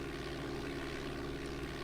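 Steady propeller aircraft engine drone at takeoff in Flight Simulator 4, a continuous, even, loud hum with no talking.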